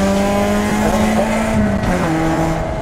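A racing car's engine drones in a steady, close, loud whine that shifts pitch up and down as it drives, with no talk.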